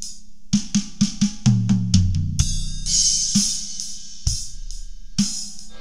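A drum kit plays a beginner fill in a kids' lesson: a quick run of sharp snare and tom hits over kick-drum thumps, landing on the one with a ringing ride-cymbal stroke, followed by more cymbal and drum hits.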